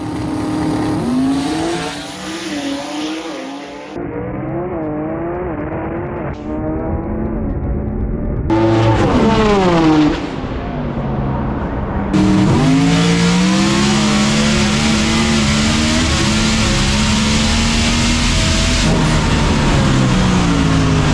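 A drag race car launches and accelerates hard down the strip in a head-to-head World Cup Finals race against a Tres Cuarto import car. The engine roars loudly and continuously, with sharp rising pitch sweeps and gear changes through the run.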